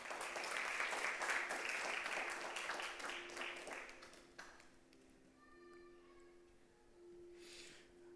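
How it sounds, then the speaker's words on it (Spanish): Applause from a church congregation during a Sunday service, a dense burst of clapping for about four seconds that quickly fades to scattered claps and quiet. "Dale un aplauso."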